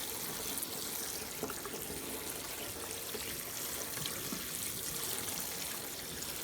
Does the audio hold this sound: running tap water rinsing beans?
yes